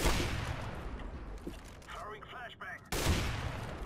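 Bursts of gunfire from Counter-Strike: Global Offensive on the Overpass map, a loud volley at the start and another sharp burst near the end, with a quieter gap between where brief in-game sounds flicker.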